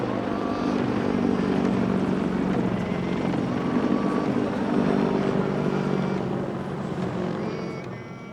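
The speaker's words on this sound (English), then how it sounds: "giant American helicopters circled above us, intimidating as always." Giant American military helicopters circling low overhead in Okinawa make a steady, loud rotor and engine drone that holds throughout and fades slightly near the end.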